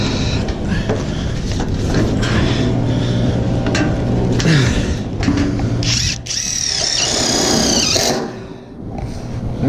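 A power drill driving screws into clips on a metal door frame, close and loud with bursts of high whining motor and rattling, pausing briefly, over steady background noise.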